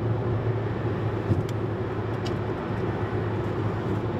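A car with a modified exhaust rumbles steadily on a road, a low droning exhaust note with no clear rev spikes, moderately loud and continuous.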